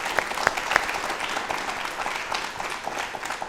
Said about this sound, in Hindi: एक बार तालियां जोरदार हो जाएं सर के लिए भी